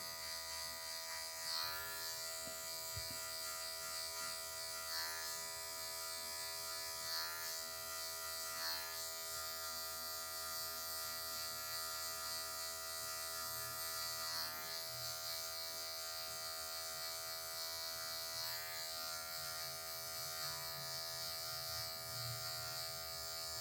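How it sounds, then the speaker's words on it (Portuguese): Electric hair clipper buzzing steadily while its tip cuts a mid fade in a barbershop, a constant close, even drone with slight shifts as the blade angle changes. "Só a pontinha da máquina. Máquina bem inclinadinha."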